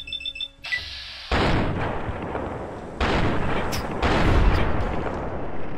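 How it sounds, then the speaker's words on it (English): In Fallout: New Vegas, a few loud gunshots crack out one after another, each with a long rumbling echo trailing off over open ground. A short electronic chime comes before them. "Shoot him in the head."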